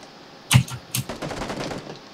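Bursts of video game gunfire, a loud sharp crack followed by a second volley and then a run of quicker shots with a rattling, machine-gun feel.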